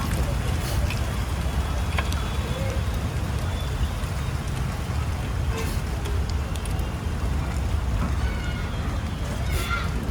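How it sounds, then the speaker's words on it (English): Steady rain falling outdoors during a Yamaha RX100 two-stroke motorcycle repair, a dense continuous patter close by with scattered drop hits, running unbroken throughout. "and it started to rain."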